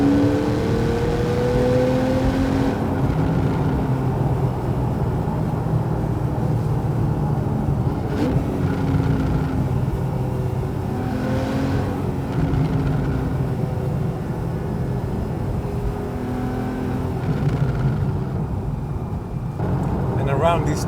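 A Porsche 911 991.1 Carrera S drives at high speed on twisting roads, heard from inside as a steady loud engine and road roar with faint gear-like tonal sweeps, under continuous talk.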